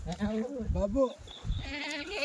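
Kathewadi goats, a full-size double-bone breed unloaded from a truck, bleat several times in quick succession, close and distinct, with a voice speaking over the herd.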